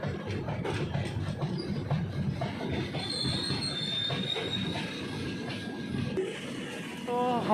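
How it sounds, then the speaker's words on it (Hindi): A passenger express train rolls into Mozampur Narayan Junction with a steady rumble of wheels, some clatter and thin drawn-out squeals of braking wheels near the end, while a voice speaks faintly underneath. "Finally, train is arriving Mozampur Narayan Junction."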